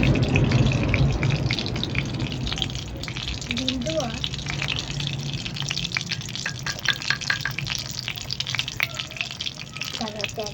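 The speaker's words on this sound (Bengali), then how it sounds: "পটপট পটপট করে ফুটছে।" An omelette cooking in a pan gives a continuous crackling sizzle with dense popping and bubbling, close and fairly loud, while someone talks over it.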